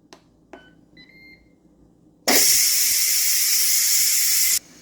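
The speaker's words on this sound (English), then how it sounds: "We're going to release that pressure." Steam vents in a loud, steady hiss from an Instant Pot pressure cooker holding minestrone soup, lasting about two seconds before cutting off, preceded by a couple of soft clicks and short electronic beeps.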